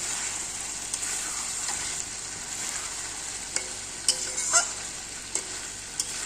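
Fish head chhechra with mixed vegetables and onion cooks in a pan: a continuous soft sizzle with the clink and scrape of a stirring spoon now and then.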